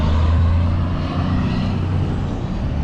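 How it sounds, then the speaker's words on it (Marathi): A tractor-trailer truck passes on a downtown street in Plainfield, its loud, steady engine roar and road rumble filling the whole short stretch close by. "tractor trailer"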